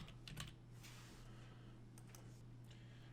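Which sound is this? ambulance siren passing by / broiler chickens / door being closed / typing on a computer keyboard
typing on a computer keyboard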